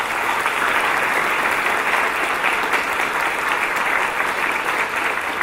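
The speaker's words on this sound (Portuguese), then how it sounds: "A ele também pedimos uma salva de palmas." An indoor audience at a Bahá'í bicentenary celebration applauds an actor with dense, steady clapping that stays loud and even throughout.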